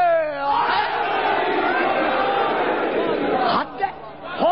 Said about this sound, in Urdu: مل کے نعرے